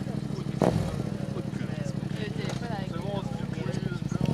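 A motorcycle fitted with a loud aftermarket exhaust idles and rumbles steadily nearby at a family day outing, its low burbling running continuously while people talk over it.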